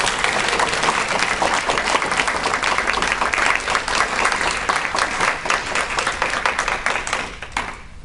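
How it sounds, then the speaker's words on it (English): Audience applause after an undergraduate economics debate at UMass, a dense, steady wash of many hands clapping that holds for about eight seconds, then thins out at the end. "I think we should all give them a big round of applause."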